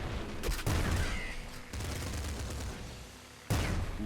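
The shot cannon fires in the video game Nuclear Throne, several loud, blasting bursts that crack out in separate clusters amid continuous game noise.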